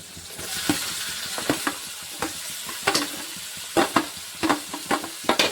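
Tomatoes frying in a pan for avalakki, a steady sizzle with repeated scraping stirs of a spatula against the pan, close and alone with no talk.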